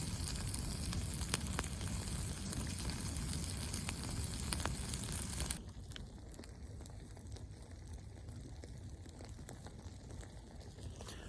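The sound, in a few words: ghee crackling over campfire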